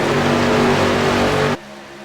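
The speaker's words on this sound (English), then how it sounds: "We got green flag racing down here tonight." Racing trucks roaring past at Auto Club Speedway during a Southern Motorsports Truck Series race, a loud, dense engine drone that cuts off abruptly near the end.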